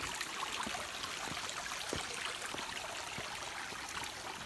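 A waterfall at Ban Khao Phluang in Phetchabun gives a steady, even rush of falling water, moderately distant and unbroken.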